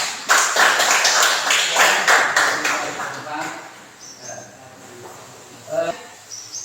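A classroom audience claps for a group's presentation, a dense burst of hand claps for the first few seconds that thins out and fades, leaving scattered faint sounds.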